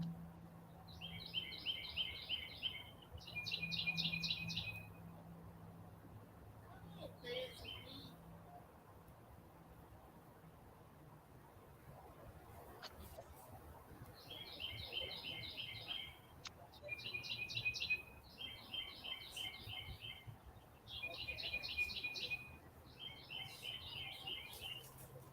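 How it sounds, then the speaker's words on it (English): Small birds chirping on a homestead, short bright twittering phrases repeated in clusters at moderate distance over quiet outdoor ambience. "Is that a bird we are hearing?"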